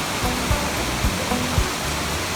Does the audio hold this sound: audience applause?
no